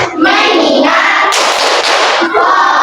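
A class of fifth-grade pupils claps together in a rhythmic classroom clapping routine, loud and close, in dense bursts with brief pauses between patterns.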